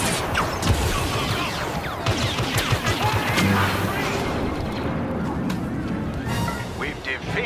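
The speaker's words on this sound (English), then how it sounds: "Airstrike incoming." Dense, continuous battle din from an airstrike in Star Wars Battlefront II, with repeated booms and crackling blasts layered over steady rumbling and mechanical clatter, loud and sustained throughout without a clear break.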